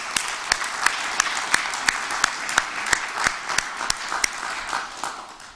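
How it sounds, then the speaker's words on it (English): An audience applauds at a mayor's press conference, a dense, steady patter of clapping with several sharp, close claps standing out. It continues at an even level throughout. "Can we have another big round of applause for Casey?"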